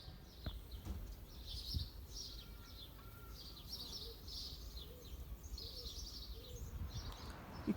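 Swifts calling in flight as they move away from rain, a continuous stream of high thin screaming chirps repeating throughout, faint and somewhat distant over a low rumbling background.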